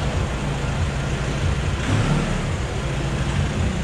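Nissan Navara engine with a remap and custom exhaust revving steadily, a continuous low rumble holding throughout with slight swells, close and fairly loud, no talking.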